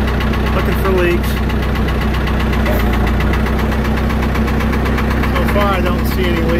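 Loud, steady diesel idle of a John Deere 450 backhoe engine with a knocking, vibrating rumble, heard up close and continuous, with a voice talking faintly over it.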